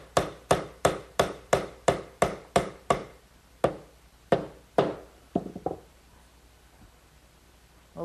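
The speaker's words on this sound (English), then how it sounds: "Maybe just a little gentle persuasion from a rubber mallet." A rubber mallet taps a glued wooden dovetail joint into its slot, about ten even, close, sharp knocks in a steady rhythm, then a few slower spaced blows and a small cluster of lighter taps before quiet.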